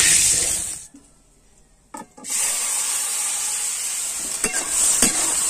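Spices tempering in hot oil for a rustic Odia vegetable curry give a loud, steady sizzle that drops out briefly, then bursts back with a few sharp crackles and stirring clatters.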